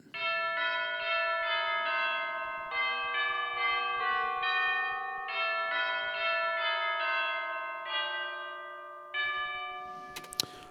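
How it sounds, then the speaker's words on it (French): Orchestral bells from the Sonuscore The Orchestra sample library ring out in a steady sequence of bright, sustained metallic tones, each strike overlapping the last, loud and close with no voices. "les cloches qui arrivent"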